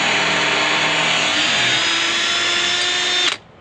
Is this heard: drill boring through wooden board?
yes